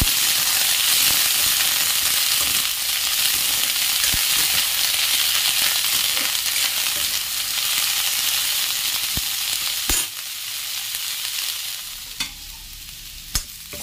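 Small fish frying in a little oil, used for a fish mash curry with no onion, give a steady close sizzle with occasional stirring scrapes, easing slightly toward the end.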